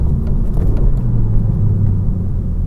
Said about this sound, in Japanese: これちょっとダブルクラッチいきますよ。